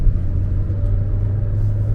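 A Kia Seltos facelift accelerating hard to overtake with traction control switched off, a steady loud low engine rumble and road roar heard from inside the cabin, with no talk.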